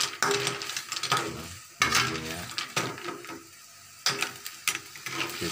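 Large rice-field snails being stirred with spices in a pan, shells clattering and scraping against the metal in repeated bursts over a low sizzle, each round of stirring followed by brief pauses.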